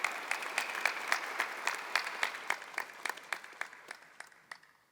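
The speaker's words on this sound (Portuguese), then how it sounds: "Aplaudamos a palavra do Senhor que foi proclamada." A Catholic congregation at Mass applauds the proclaimed Gospel reading, steady rhythmic clapping in unison that echoes through the church and slowly fades toward the end.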